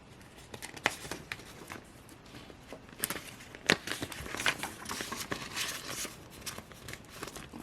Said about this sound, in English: And we'll put this into this envelope here.